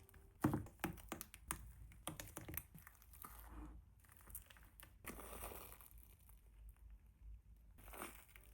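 Glowing slime being crushed and squished by hand, giving a run of soft wet taps, squelches and crinkly presses, some sharper near squishes early on, then quieter irregular squishing with no talk.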